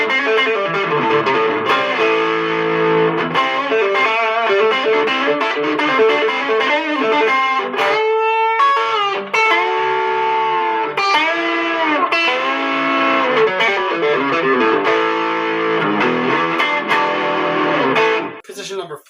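A Fender American Pro II electric guitar in the middle pickup position plays a continuous run of chords and sustained notes with a slightly driven tone, close and fairly loud.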